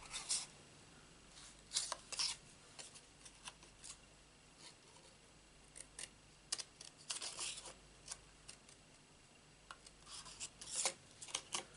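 Scissors snip around a stamped card panel during papercraft, short crisp cuts coming in irregular bursts close to the mic with quiet pauses between them, and no one speaking.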